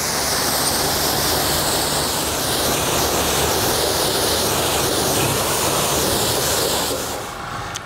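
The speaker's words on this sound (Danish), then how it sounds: "Og vi vil igen sagtens bruge havevandslangen" A garden hose sprays water over a motorcycle during washing, giving a steady, loud rushing hiss that holds evenly and then fades off at the very end.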